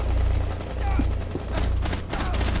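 Gunfire in Rainbow Six Siege strikes the player during a House map team deathmatch, a few sharp bursts crackling over a steady low in-game rumble, close and moderately loud with no talk.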